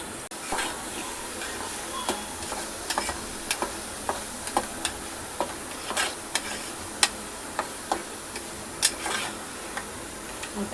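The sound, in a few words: stirring half-cooked dal frying in pan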